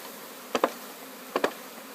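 A package of about 12,000 honey bees gives two short, close buzzy bursts, each a quick double pulse, over quiet background with no talking.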